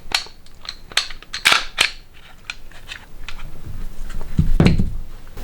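Dry-fire trigger clicks from a Glock .40 caliber pistol, several sharp, close mechanical snaps spaced irregularly, with a fuller thump near the end.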